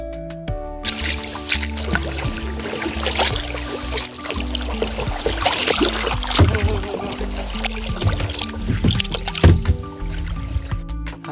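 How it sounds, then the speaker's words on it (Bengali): A boat ride on Carnisa lake in Romania, with water lapping and trickling against the hull among scattered knocks and a low steady rumble, fairly close and continuous. "আমরা এখন লেকে নৌকা ভ্রমণ করব।"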